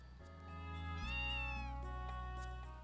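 A cat meows once in the video game Breath of Fire 4, a drawn-out tonal call heard alone and fairly clearly over quiet game music.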